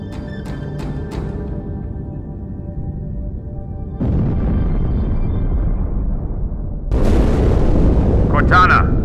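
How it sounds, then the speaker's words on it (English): Deep rumbling explosion in the Halo 2 video game, a low sustained roar that swells in stages and stays loud, with a short voice line near the start. "That explosion came from inside the Athens."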